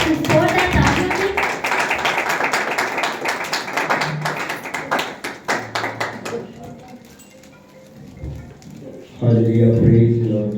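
A church congregation at a Sunday service applauds with dense, sustained clapping for about six seconds, then the clapping thins out and a voice takes over.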